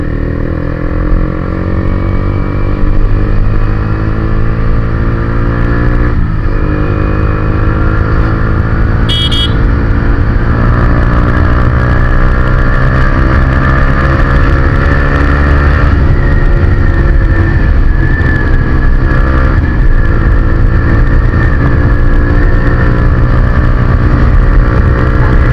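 A small motorbike carrying three riders speeds along, its engine droning loud and steady at close range with rising pitch as it accelerates, wind rush underneath and a brief horn-like tone partway through.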